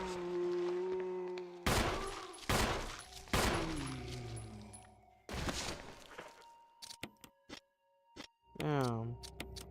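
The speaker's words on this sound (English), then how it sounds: "Wasted a whole clip on this fool for no reason." Gunfire in the Resident Evil video game: loud broadband shots in a burst, then a rapid string of sharp clicking reports, with game music and effects tones running underneath.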